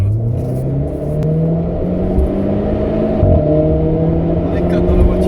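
A Renault Clio 4 RS Trophy, 250 hp with a stage 1 tune and four people aboard, accelerates hard with a loud, continuous engine drone rising in pitch from inside the cabin.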